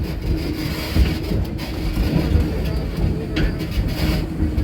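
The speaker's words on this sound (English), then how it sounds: "The locomotive at the head of our train today is the Thomas A. Edison." The Thomas A. Edison, a coal-fired steam locomotive, rumbles steadily at the head of a passenger train in a historic village, a continuous low mechanical roar with no distinct chuffs standing out.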